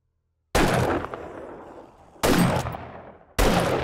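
Rifle shots in the zombie survival game 7 Days to Die, Darkness Falls mod: three loud, sharp blasts, each trailing into a long booming decay, spaced roughly one to two seconds apart.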